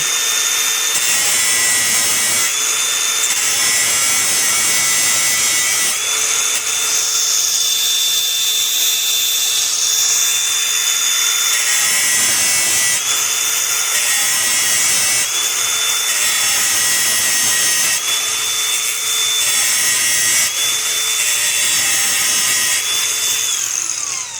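A power tool grinds down welds on a 2013 Chevrolet Malibu Denso alternator at close range, a harsh high whine that rises and dips as the pressure on the metal changes.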